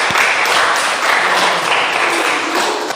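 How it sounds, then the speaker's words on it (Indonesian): A classroom of students applauding a student group after a lesson discussion, giving a loud, continuous burst of clapping for about three seconds, close and dense, with some faint voices mixed in. "Sok tepuk tangan untuk kelompok 2."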